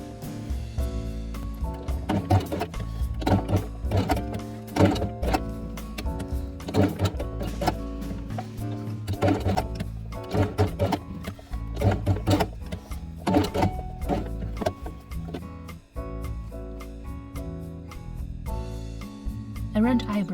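A sewing machine stitches felt pieces onto a quiet book page in repeated short whirring bursts with brief pauses between them, running over a steady tonal background.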